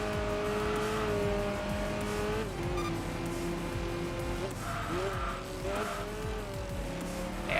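A tuned race car with stage 2 engine upgrades roars continuously in the Enthusia Professional Racing video game, its loud engine note rising and dipping through gear changes, with brief tire squeals as it corners a chicane.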